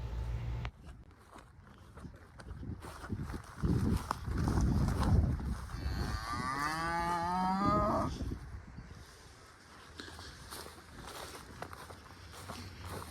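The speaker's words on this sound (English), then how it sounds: "I have all of those keeper cows in the paddock." Cattle being sorted in a paddock moo in a drawn-out, close call, with hooves shuffling and thudding around it and the low murmur of the herd nearby.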